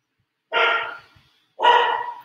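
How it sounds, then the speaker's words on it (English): Two separate dog barks, fairly loud and close, each lasting about half a second with a pause between them; no talking. "you can kind of hear him barking in the background here"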